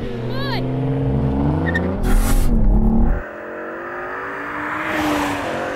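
A BMW M5 V10 Touring and a BMW M440i launch side by side in a drag race: loud, close engines rev and climb in pitch with a brief tire squeal, then the roar drops away as the cars pull off.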